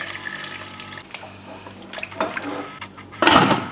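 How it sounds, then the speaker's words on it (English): Water poured into a pot of tomato stew with chili, onion and green seasoning, a splashy pouring burst near the end following quieter kitchen clatter. "At this point, I would like to add up some water because I need more stock."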